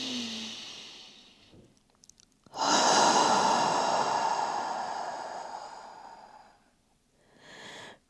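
A person takes a slow, deep breath in during a hatha yoga practice, then releases a long, loud sighing exhale lasting several seconds, followed by another short breath, close and alone without talk.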